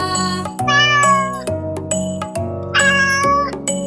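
Two drawn-out cat meows, loud and near, rise and fall over soft, steady background music, with no voices.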